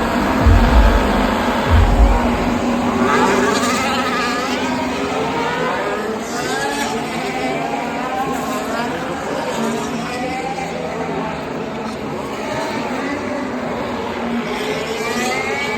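Race cars pulling away at the start of a race, a loud, dense engine roar heard from the crowd, with a voice talking over it.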